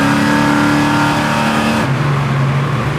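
A 1970 Buick GS engine revs loudly from inside while driving, a steady, strained roar that drops sharply in pitch midway as the throttle lifts or a gear changes, then continues lower, with no talk.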